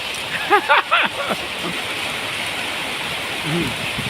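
Steady rain falls in a continuous soft hiss. A voice rises briefly near the start and again near the end.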